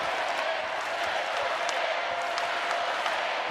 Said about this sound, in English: The hometown crowd trying to encourage the Panthers